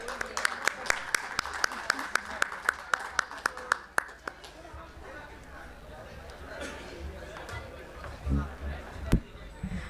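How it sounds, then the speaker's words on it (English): An audience at a talk on AI for Indian sports claps in a steady, evenly spaced rhythm for about four seconds before it gives way to murmuring chatter and a voice speaking. "A huge round of applause, everybody."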